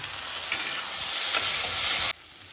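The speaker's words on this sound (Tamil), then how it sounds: "நல்லா வதங்கட்டும் தக்காளி" Tomatoes sauté in a pan with a loud, close, hissing sizzle and stirring scrapes that cut off abruptly near the end.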